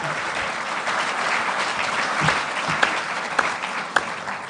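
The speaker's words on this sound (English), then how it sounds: "Let's just give it another round of applause for the first episode of The Expanse." A Comic Con panel audience claps steadily for a TV series premiere episode, a dense wash of applause with a few sharper individual claps and whoops standing out near the end.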